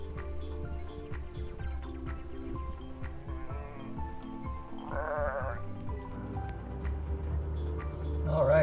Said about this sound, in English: we got some sheep action down there.